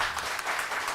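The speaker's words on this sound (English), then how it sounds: "Can we start the session with a huge round of applause for them?" Audience applause at the Bhopal Literature Festival as a session opens with speakers on stage, a steady, moderately loud, dense clapping texture throughout the short moment.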